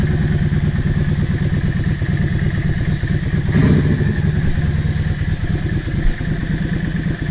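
A Yamaha XVS650 motorcycle idles steadily at close range with a loud, even low rumble. A single louder thump breaks in partway through.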